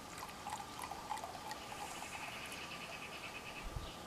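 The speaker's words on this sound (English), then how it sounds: "let's do the pouring." A 2017 red wine is poured into a glass, giving a faint, continuous, soft trickle that lasts a few seconds in a quiet room.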